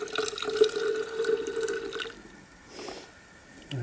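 Liquid solution for gold recovery with aluminium pours in a steady trickling stream for about two seconds, then a softer splash and drip follow.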